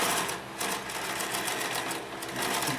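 A Consew 227R-2 industrial sewing machine stitches a short seam through six layers of material, a close, continuous, steady whirring hum with rapid needle ticking and slight speed swells, without talk.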